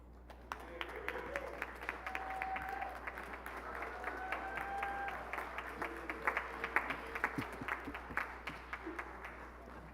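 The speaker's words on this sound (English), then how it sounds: "give them a rousing applause of appreciation for what they've done for you" Graduating business students at a hooding and recognition ceremony applauding their families, a quiet and scattered clapping with distinct individual claps spread across a large room, with faint voices mixed in.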